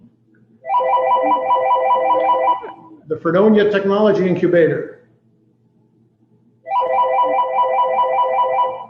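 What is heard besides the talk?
phone ringing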